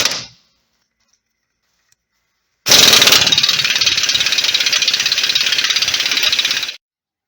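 A ratchet wrench turns 17 mm lower control arm bolts on a 2014 Honda Civic: a brief click at the start, a pause, then about four seconds of rapid, loud, close ratcheting that cuts off abruptly.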